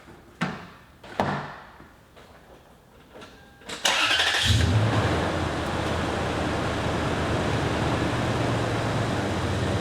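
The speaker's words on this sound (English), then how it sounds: "we're gonna go ahead and start the car" A car engine cranks and starts after battery jump-starting, preceded by a few sharp knocks and clunks, then settles into a steady, loud, close idle that runs to the end.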